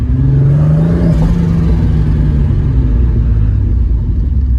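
A VR6 turbo-swapped MR2 Roadster engine holds a steady, loud rev around 3,500 RPM, a continuous low droning rumble with a slight pitch rise and fall, heard close from inside the car.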